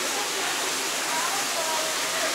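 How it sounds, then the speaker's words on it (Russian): Decorative waterfalls inside the Dubai Mall aquarium give a steady, dense rush of falling water, a broad even hiss that runs unbroken and fairly close throughout. "Смотрите, водопады."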